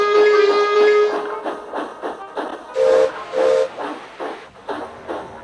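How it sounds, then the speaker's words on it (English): A steam engine lets off bursts of hissing steam and sounds its whistle, with sustained whistle tones at the start and short hissing blasts repeating through the rest, loud and close. "That sounds like a steam engine,"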